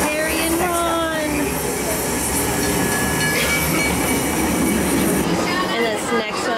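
A replica steam train carriage at a Harry Potter studio tour in Tokyo rumbles steadily, with faint wheel squeals and clicks in a rail-like soundscape under indoor background chatter.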